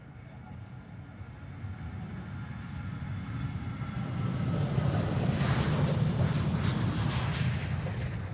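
An aircraft in SkyTeam livery moving at Amsterdam Schiphol produces a broad jet rumble that swells and grows closer partway through, then holds at a louder level, with a rising whine above it.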